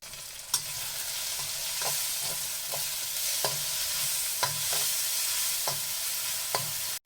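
Fish curry with cauliflower cooks in a pan with a steady sizzle, while a plastic spoon stirs it in scattered scraping strokes at close range. No one speaks.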